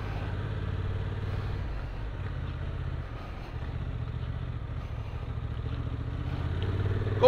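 A Honda Transalp motorcycle rides over rough cobblestone paving, its engine holding a steady mid-range drone with a faint clatter from the stones. The engine stays close and even throughout and rises slightly in the final moments.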